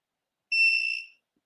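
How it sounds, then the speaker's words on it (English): A single steady electronic beep from a gemstone tester, about half a second of high, clear tone in an otherwise quiet room. "I'm not even touching you and you're still beeping."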